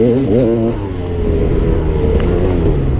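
A KTM EXC 300 two-stroke dirt bike engine revs hard up close, a few quick throttle blips followed by a sustained rough, buzzing drone while riding.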